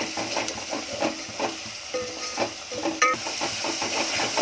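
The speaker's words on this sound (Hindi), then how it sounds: "अब प्याज अपना और थोड़ा गुलाबी करूँगी" Onions frying in oil in a pan for masoor pulao, a steady close sizzle and hiss with occasional stirring scrapes throughout, no talking.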